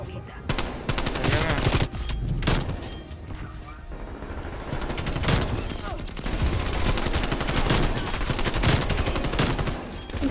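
Dense, rapid gunfire from Call of Duty with overlapping bursts and sharp cracks, continuous and loud, with mechanical clatter mixed in.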